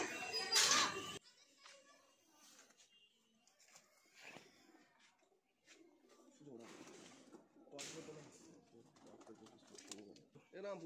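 Pigeons of selectively bred Rampuri and similar fancy breeds coo softly in a loft, with a sharp flutter of wings at the start and someone talking over the low repeated calls.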